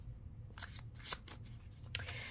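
Tarot cards being shuffled, stiff and hard to riffle, giving a few soft separated flicks and slides over a low background hum, fairly quiet and close.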